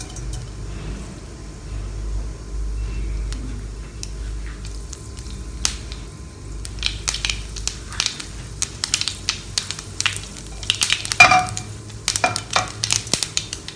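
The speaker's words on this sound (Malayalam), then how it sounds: "കടുക് പൊട്ടി തുടങ്ങിയിട്ടുണ്ട്" Mustard seeds spluttering in hot oil in a pan for mushroom masala, scattered sharp pops and crackles that grow denser and louder toward the end over a faint low hum.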